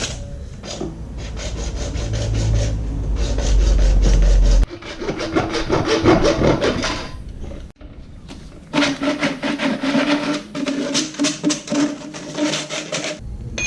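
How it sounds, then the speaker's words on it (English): Hacksaw cutting through wood for a quail hutch, steady back-and-forth rasping strokes close up, loud and rhythmic, pausing briefly between bursts of sawing. "I will cut this with the hacksaw"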